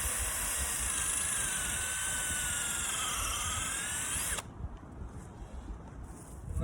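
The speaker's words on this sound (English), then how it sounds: "let's drill this hole" A drill bores a tap hole upward into a maple tree, a steady close whine running for about four seconds before cutting off, leaving faint outdoor background.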